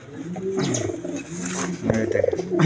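Purebred pigeons nesting on eggs coo in soft, throaty rolling calls, several birds close by repeating in uneven bursts across the moment.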